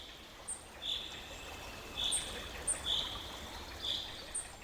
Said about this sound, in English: Faint murmur of water flowing over smooth stone sounds.